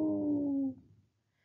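A single sustained voiced howl imitating a dingo, held for under a second before fading out, close and fairly loud with no other sound around it.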